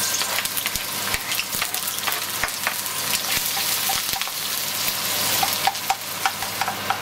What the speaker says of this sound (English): So now we're gonna saute the onions